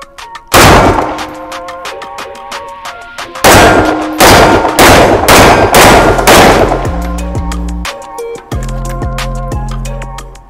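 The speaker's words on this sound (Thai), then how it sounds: "โอเคยิงครบ3ตัวค่ะ" Rifles fired at an outdoor shooting range: several loud, close bursts of rapid automatic fire in quick succession, followed by quieter ringing tones near the end.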